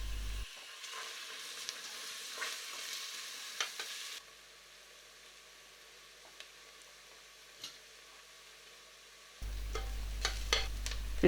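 Onion frying in olive oil in a pot sizzles softly with scattered pops and crackles, steady and low, dipping quieter for a stretch before resuming.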